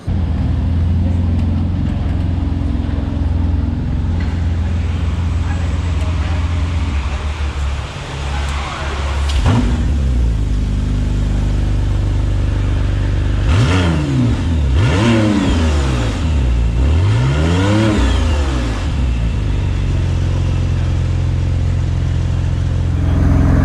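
A McLaren Artura hybrid supercar accelerating, its engine revving up through several rising sweeps, loud and close, with road and wind noise throughout.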